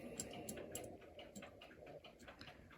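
Old mechanical clocks ticking together in a workshop, with faint overlapping ticks repeating at uneven rhythms, quiet and close under a low background hum.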